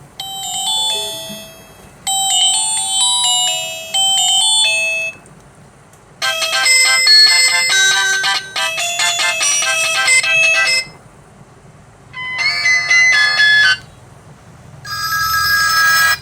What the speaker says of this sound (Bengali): চলুন দেখা যাক যে এই ফোনটির রিংটোনের সাউন্ড কী